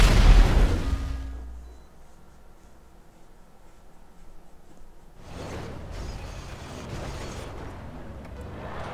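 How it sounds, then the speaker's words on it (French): A heavy boom opens, followed by a rumbling decay, a quieter stretch, then a long noisy rush like blasts and debris, from explosions in GTA 5 on PC. "Ou les explosions."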